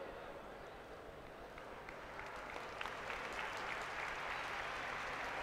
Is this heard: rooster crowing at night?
no